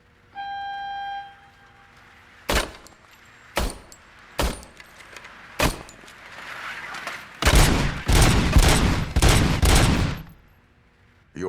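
Service-weapon gunfire in RoboCop: Rogue City, a string of sharp, loud single shots spaced about a second apart, then a denser burst of rapid blasts, ending in quiet.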